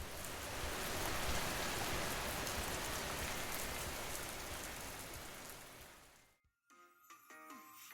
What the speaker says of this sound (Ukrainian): Здається, зараз дощ піде. Чуєте?